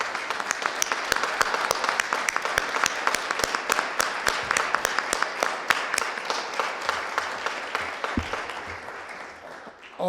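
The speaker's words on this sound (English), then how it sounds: "let's give a big round of applause and congratulations to Alderwoman Kara Spencer" A city board of aldermen meeting breaks into a sustained round of applause, dense steady clapping from a crowded room lasting about ten seconds before tapering off near the end.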